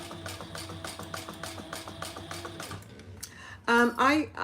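A sewing machine runs in a steady rapid rhythm, stitching Bengaline fabric along a seam guide, then stops as a voice speaks briefly near the end.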